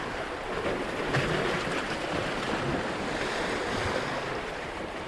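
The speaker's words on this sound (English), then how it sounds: "Hopefully you can hear that gurgling sound." Water gurgles and washes along a Lake Michigan beach in a constant, fairly loud surf roar mixed with wind buffeting the microphone, with no talking.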